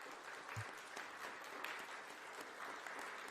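An audience at a press conference in Moscow applauds itself with a steady, even wash of clapping, faint and distant, continuing without a break and with no clear speech.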